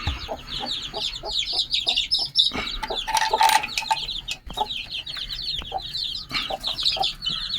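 Many chickens cluck and chirp continuously inside a coop, busy overlapping calls close by with occasional louder squawks.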